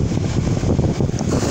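A strong headwind blows across open water with waves over a metre high, making a steady, close rushing roar that buffets the microphone throughout.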